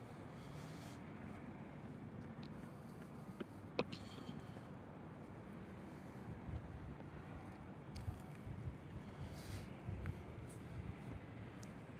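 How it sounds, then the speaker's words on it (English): Morning wind blows steadily outdoors, a low, continuous rumble buffeting the microphone with faint gusts and scattered small knocks throughout, and no voices. "Man, the wind this morning."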